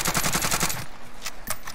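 Rapid automatic gunfire from Call of Duty Warzone in Verdansk battle royale, a loud, close string of evenly spaced shots lasting nearly a second, then a quieter gap broken by two sharper single reports.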